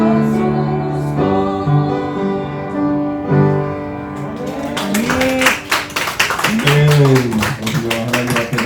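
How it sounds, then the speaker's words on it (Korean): Congregation applause during a Korean church's online worship service: music and singing first, then dense broadband clapping rises midway and continues to the end, mixed with voices and song. "우리가 하나님 앞에 박수로 올려드리겠습니다."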